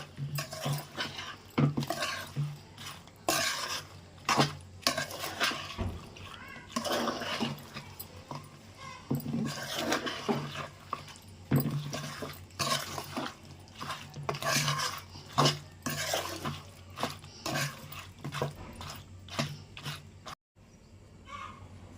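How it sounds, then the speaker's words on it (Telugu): Drumstick pickle is mixed by hand in a metal vessel, giving repeated wet squelching and soft clinks in an uneven rhythm for a long stretch. "ఇది అంతా మొత్తం కలిసేలా కలుపుకోవాలండి, పులుపు వీటికి అన్ని పట్టేలాగా."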